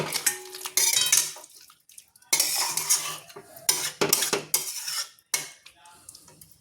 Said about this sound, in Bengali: চিনি দিয়ে আমি এটাকে আবার মিশিয়ে নিচ্ছি